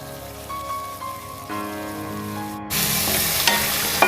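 Sliced large onion frying in hot oil for a semiya chicken biryani gives a steady, close sizzle that grows louder and denser near the end as more goes into the pan, with no talking.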